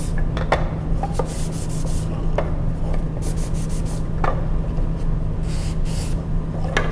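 A wooden slip-top box being hand sanded with a sanding block: steady, faint close-up rubbing strokes in a continuous scratchy texture with a few soft knocks, no talking.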